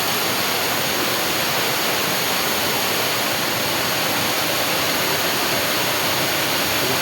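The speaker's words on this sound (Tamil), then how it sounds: "தண்ணி நிறையா ஊற்றுது." Catherine Falls near Kotagiri pours heavily in a steady, dense roar of rushing water that stays constant and loud throughout, with no voices.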